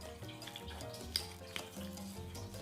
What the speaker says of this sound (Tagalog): And then mix lang.